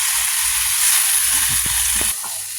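Food for a fish curry sizzles steadily in a hot pan, a constant bright hiss with a few soft clinks near the end.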